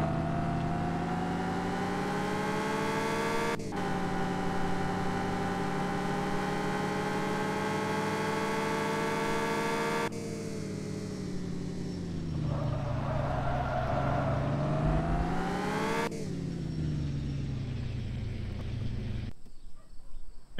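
A used car driven in Car For Sale Simulator 2023 gives a steady, loud engine hum and drone that rises in pitch as it accelerates, with abrupt shifts and cuts between segments.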